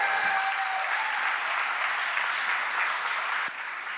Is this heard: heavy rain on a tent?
no